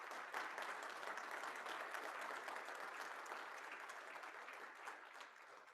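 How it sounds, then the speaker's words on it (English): Sustained audience applause fills a large hall at a trucking association's annual address, a dense, steady wash of many hands clapping that holds even throughout and eases slightly toward the end. "So please give Sherry a round of applause and congratulate her on this great accomplishment."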